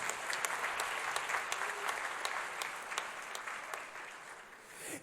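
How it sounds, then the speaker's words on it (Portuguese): A church congregation claps together in a sustained round of applause, dense and steady, heard from within the hall at moderate level. "Quem recebe esta palavra, aplauda o nome do Senhor Jesus."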